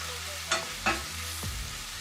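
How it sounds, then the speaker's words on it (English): Pasta and meatballs get stirred in a pan, with two scraping sweeps of the spoon over a low sizzle, then a softer third scrape before the frying settles back. "Give it a quick stir, mix up."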